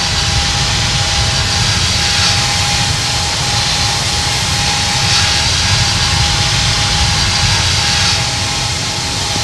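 Boeing 777 Freighter jet engines roaring steadily at takeoff power in the Infinite Flight game, a loud continuous broadband rush with a thin steady whine on top, no voices.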